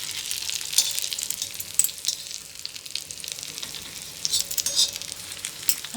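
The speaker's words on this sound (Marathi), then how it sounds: "असं उलटं करून आता आपण शिजवूया त्याला." Stuffed brinjals sizzle in a pan over low heat after being turned, a steady close frying hiss with occasional sharper crackles and spatters, no voices.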